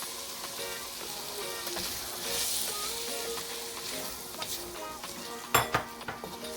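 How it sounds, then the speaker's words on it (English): Beef stir fry sizzles loudly in a pan as soy sauce goes in and a utensil stirs, followed by a few sharp clinks and scrapes against the pan near the end, close up with no talking. "Give it a stir. And I'm going to add my soy sauce."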